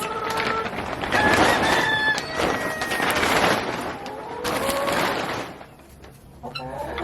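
Several chickens cluck and squawk close by in overlapping bursts inside a chicken coop greenhouse, with a brief lull near the end before more calls.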